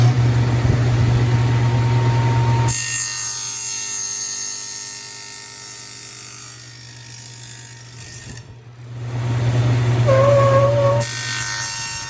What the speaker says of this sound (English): So let's set up to cut the sides.